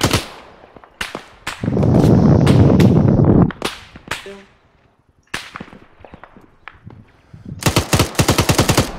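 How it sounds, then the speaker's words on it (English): Incoming gunfire in the military shooter Arma comes as sharp, loud single cracks. A sustained roaring burst follows, then scattered shots, and the clip closes with a rapid automatic rattle. "Shots are coming in, shots are coming in."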